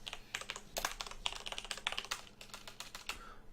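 Someone types quickly on a computer keyboard, a close, quiet run of key clicks in uneven bursts with brief pauses between them. No one speaks.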